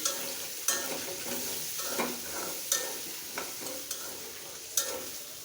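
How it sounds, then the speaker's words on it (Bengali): Pieces of pointed gourd (potol) fry in a pan with a soft continuous sizzle, and a spatula scrapes and taps the pan in repeated sharp strokes about once a second. "পটলগুলো ভাজা হয়ে গেলে"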